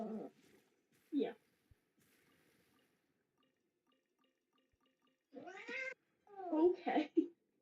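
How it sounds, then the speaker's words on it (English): A female cat in heat gives several loud, drawn-out meows and yowling caterwauls, one short cry early on and a longer pair near the end, with quiet gaps between. "That cat sounds really angry."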